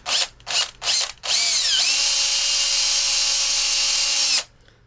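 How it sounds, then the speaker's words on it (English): A hand-held power drill bores through katana lid hardware: three short revving bursts, then one long steady high whine held for about three seconds before stopping, loud and close. "So you need to be careful how you drill this, because you're holding it in your hand"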